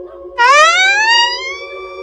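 An old ambulance siren starts abruptly with a rising electronic wail that climbs in pitch and holds steady, loud and close, over a faint low hum.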